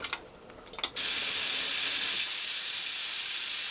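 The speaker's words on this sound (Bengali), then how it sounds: "দিয়ে আমি 3টে সিটি দিয়ে নেব।" A kitchen pressure cooker holding mann kochu (giant taro) boiled in salted water starts releasing steam. A few faint clicks come first, then a loud, steady whistling hiss runs unbroken to the end.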